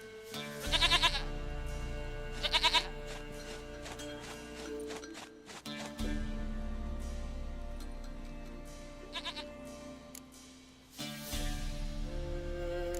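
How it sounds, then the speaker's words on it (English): A goat in The Witcher 3: Wild Hunt gives loud, quavering bleats in short bursts, over a low ambient game hum with faint hoof-like clops between calls. "Goat of mine, dearest, sweetest goat."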